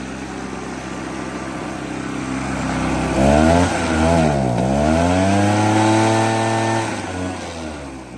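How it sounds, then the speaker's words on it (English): A gas backpack leaf blower, either a Stihl BR430 or an Echo PB-650, runs loud and close with a steady high-pitched whine. It revs up, dips and climbs again midway, then settles back down. "I almost shut the blower off by accident because I'm not used to that setup"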